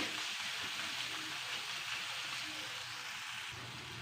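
Turmeric and chili powder fry in hot oil for a brinjal rice dish, giving a steady, soft hissing sizzle that continues evenly throughout with no talking.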